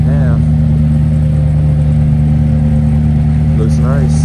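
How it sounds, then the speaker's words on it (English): A McLaren 765LT at a drag race in Houston rumbles with a loud, steady engine drone and brief revving swells, heard close amid crowd noise and voices. "Got that McLaren, the 765LT, the half and half."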